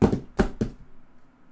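Three hollow knocks on wood, struck by hand to imitate an axe bouncing on wooden floorboards. They come close and loud in an uneven rhythm, then fade into quiet.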